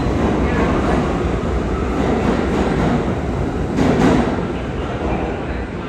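A New York subway 6 train pulls into Brooklyn Bridge station with a loud, steady rumble and rail roar that swells briefly near the end. No one speaks over it.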